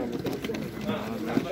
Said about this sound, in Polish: Różne gołębie miksowane.